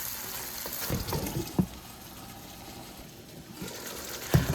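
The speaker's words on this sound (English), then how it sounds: "We're going to let that simmer and cook down." Garlic and ragu sauce simmer in a pan with a soft, steady bubbling hiss, broken by a few sharp clinks of a utensil against the pan.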